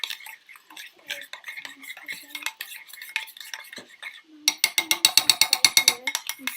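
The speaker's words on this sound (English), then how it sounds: "Half teaspoon of celery seed. I'm just going to stir that up." Half a teaspoon of celery seed is stirred into a thick coleslaw dressing with a spoon in a bowl. Soft scraping strokes come first, then a run of quick, sharp, rhythmic clicks as the spoon knocks the bowl.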